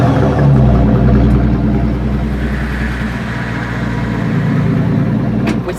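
A Maybach Exelero's V12 biturbo engine idling close by, a deep steady rumble with a smooth low throb and slight shift in tone midway.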